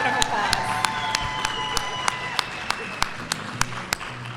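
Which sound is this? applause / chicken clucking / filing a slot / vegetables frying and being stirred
applause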